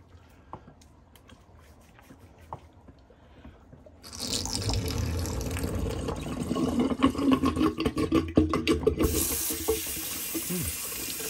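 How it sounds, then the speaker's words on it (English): Water drains and splashes out of an overfilled bathroom sink during a wet shave, starting as faint drips and light clinks, then turning into a steady, loud rushing gurgle that runs to the end. "I'm gonna empty my sink a little bit here because I kind of overfilled it."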